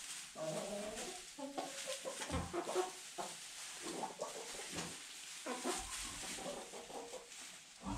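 A rooster and hens clucking on a small farm, with repeated short clucks and calls at moderate distance over a quiet outdoor background, no talking.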